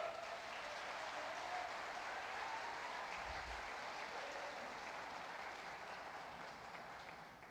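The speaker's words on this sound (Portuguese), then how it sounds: "Pode aplaudir o Senhor." A church congregation applauding during a sermon, a soft, distant, steady wash of clapping from many people that gradually tapers off, with no speech over it.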